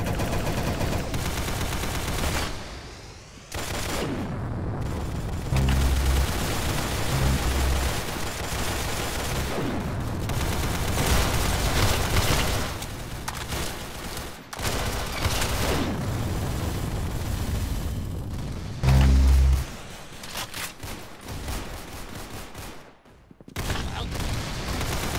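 Rapid bursts of gunfire from the Roblox game Arsenal ring out across the stretch, loud automatic fusillades broken by short pauses, with a voice speaking now and then beneath the shooting.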